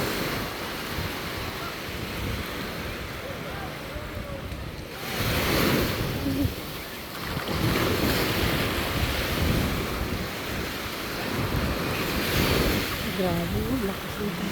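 Strong ocean waves roll onto the coast at Noja, Cantabria, a continuous loud wash of surf with swelling crashes, heavy wind buffeting the microphone, and voices talking faintly in the background.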